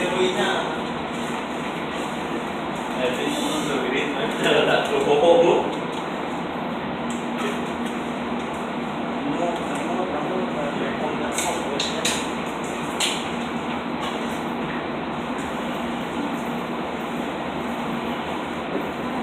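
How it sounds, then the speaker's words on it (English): A Long Island Rail Road train rumbles steadily into Carle Place station, a continuous low roar with occasional clicks and clatter, and faint voices in the background. "Here comes the train."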